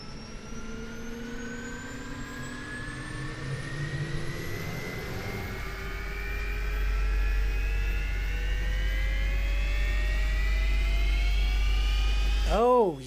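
An aircraft takes off in Microsoft Flight Simulator, its engine tone rising steadily in pitch as it accelerates down the runway, growing louder with a heavy low rumble before fading at the end.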